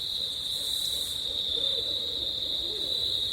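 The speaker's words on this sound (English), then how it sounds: "There's two barred owls calling to each other here at Congaree National" Two barred owls at Congaree National Park in South Carolina call to each other, their low hoots faint beneath a loud, unbroken drone of insects.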